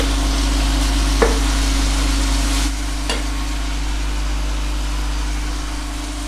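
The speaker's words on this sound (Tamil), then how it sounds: "தக்காளி வந்து இதில் வந்து நல்லா வந்து வறுபடணும்." Tomatoes fry in a pan for a chicken curry, giving a steady, fairly loud sizzle with a constant low hum beneath it and a couple of brief stirring scrapes.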